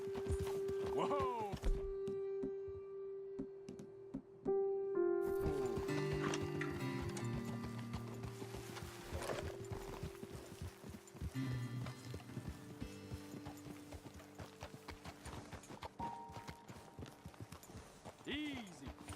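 Horse hooves clip-clop in Red Dead Redemption 2, irregular thuds under a whinny and a sustained tone, then settling into scattered steps as riders slow to a stop.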